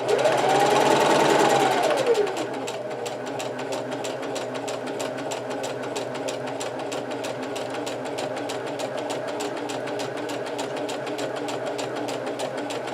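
A sewing machine stitches slowly around the edge of a fabric pocket, a steady rapid mechanical chatter that runs unbroken for the whole stretch after a brief louder whirring start, close and moderately loud.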